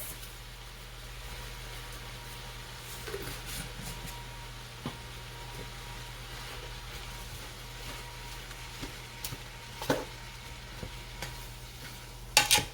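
Garlic powder seasoning gets stirred into food for a Thanksgiving meal, with faint scraping and soft stirring clicks over a steady low background hum, quiet and without speech.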